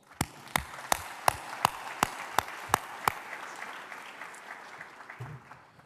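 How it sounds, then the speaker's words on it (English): Audience at a gathering of leaders clapping, about ten distinct, evenly spaced claps standing out over a softer wash of scattered applause that gradually thins. "I want to give you a round of applause."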